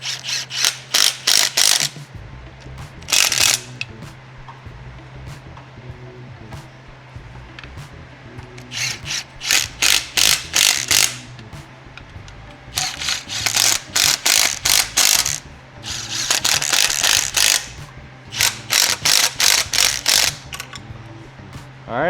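Ratchet tightening hardware on the upper oil pan of a Nissan VQ35DE engine during a rear main seal job, several bursts of rapid close clicking separated by pauses, over a steady low hum.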